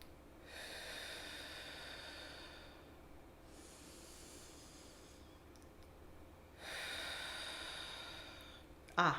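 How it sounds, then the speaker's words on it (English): Slow deep breathing exercise, long audible inhales and exhales alternating in roughly five-second phases, close and soft, ending with a brief sharp noise. "breathing in for 5, breathing out for 5"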